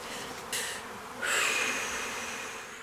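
A killer bee sound effect gives a loud, close insect buzz that swells in, drops back and swells again, holding a steady whining drone with nothing else heard.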